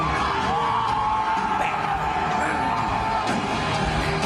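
A packed stadium crowd cheering and jumping along to Enter Sandman, a loud, continuous roar of many voices with scattered whoops and shouts rising out of the din.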